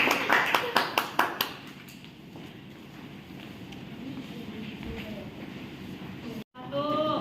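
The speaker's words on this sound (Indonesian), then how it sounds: "Kita berikan aplaus dulu kepada kelompok 3" A class in a school classroom claps for a student group, a short burst of about six rhythmic, unison claps, then quieter room noise and voices.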